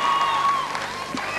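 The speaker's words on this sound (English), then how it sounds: "Amise Korda is the woman that's drawn the applause of the crowd" Crowd applause at the 1999 European fitness competition in Budapest, a dense, steady wash of clapping from a large audience, with faint tonal sounds in the hall underneath.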